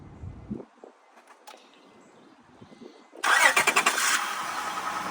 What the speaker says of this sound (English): Started right up with the jump.